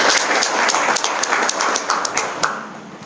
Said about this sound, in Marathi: आपण कृपया त्याच्यासाठी जोरदार टाळ्या वाजवा.